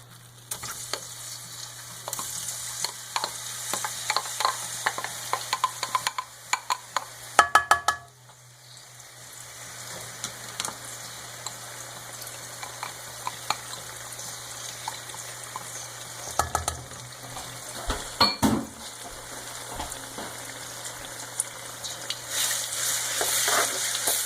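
Garlic fries in a generous amount of oil for kasoy meat sauce, making a soft, crackling sizzle with scattered pops and a brief clatter midway.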